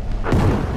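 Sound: stick grenade explosion in Battlefield V video game

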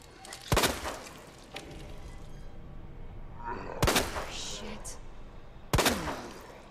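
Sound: gunshots in the video game Resident Evil 2

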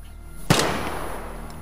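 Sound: gunshot from the Vigor video game

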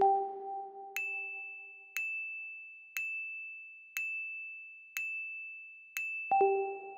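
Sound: radar ping sound effect in video title template

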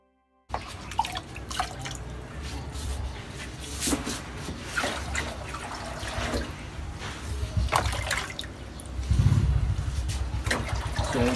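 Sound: pouring water into hydroponics grower box

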